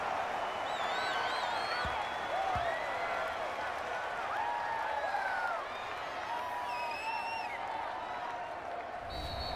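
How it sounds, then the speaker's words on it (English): Home crowd at a New York Giants versus Detroit Lions football game applauding and cheering, a broad distant wash of clapping and whoops that carries on steadily across the stadium. "And the home crowd applauding."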